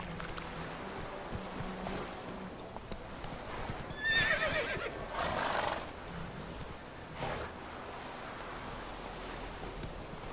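In The Witcher video game, the horse Roach lets out a brief, mid-level neigh over steady ambient game noise, with hoof clip-clop in the background and no talking.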